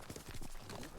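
A horse's hooves clip-clop in the Ghost of Tsushima video game, a quick steady run of hoofbeats up close, mixed with soft game ambience and no talk.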